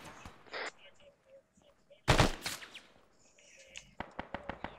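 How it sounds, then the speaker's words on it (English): Sharp gunshots land close by during a real operation captured on a soldier's helmet camera, with one loud crack and a rapid string of shots following, while voices talk over the gear. "Those shots landed near me."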